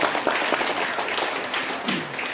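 Dense, steady applause from a crowd at an Islamic New Year celebration at an Indonesian Islamic boarding school, many hands clapping together without pause, fairly loud and close throughout.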